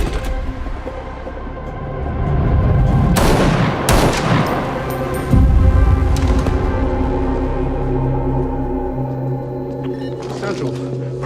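Loud gunshots ring out in a police film scene set in a fourth-floor stairwell, with sharp cracks over a rumbling score and tense background sound.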